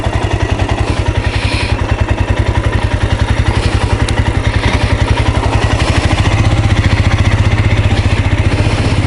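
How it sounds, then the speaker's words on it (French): A Royal Enfield Scram 411 motorcycle engine idles steadily and close by, a rapid even putter with a low rumble that holds throughout and swells slightly toward the end. "j'aurais dû éteindre le moteur"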